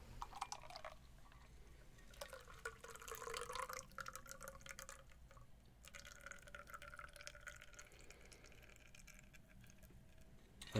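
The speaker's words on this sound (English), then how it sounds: "Give it a pour." A freshly shaken cocktail is poured from a shaker into a glass, making a faint, uneven trickle with scattered drips and splashes that last several seconds, with no talking.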